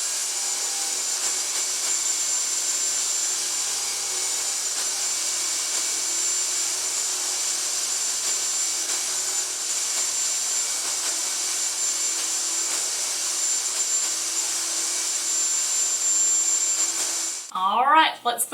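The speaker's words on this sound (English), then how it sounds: "it is time to cut dados into this back panel" A table saw with a dado cut set to 5/16 inch deep runs steadily through a wooden back panel, a loud continuous high whine that spins down at the end.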